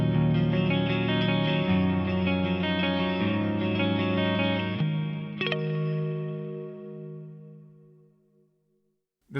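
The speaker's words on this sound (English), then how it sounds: "There's also some cool creative applications of the multi-tap and plex for things like this multi-tap delay quad flanger." Guitar played through an FM3 multi-tap delay with quad flanger, sustained chords swirling with repeating echoes and sweeping modulation, loud and alone, a sharp strum near the middle, then decaying to near silence before a final hit.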